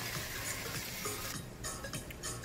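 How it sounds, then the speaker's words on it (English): Ofada stew being stirred in a pot, a steady scraping and bubbling texture with faint sizzle, fairly quiet and continuous, no one speaking. "I'm stirring it."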